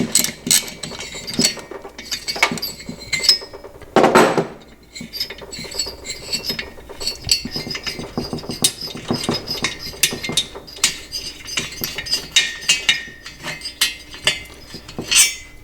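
Bolts being removed from a 1960s Maico 175cc kart engine: close metallic clinks, ratchet clicks and tool rattles in irregular bursts, with one loud scraping clatter, no talk.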